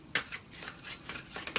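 Tarot cards shuffled close up during a reading, a quiet series of soft riffling bursts with short gaps between them.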